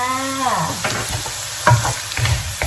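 Shrimp for pineapple fried rice sizzle in a pan after light soy sauce goes in, a loud close frying hiss with stirring scrapes, preceded by a brief tonal sound at the start.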